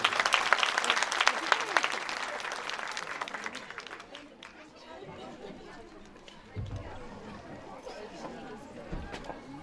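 Audience applause at a children's Qur'an course event in Turkey, loud clapping at first that thins out after a few seconds, with crowd chatter and a few thumps underneath.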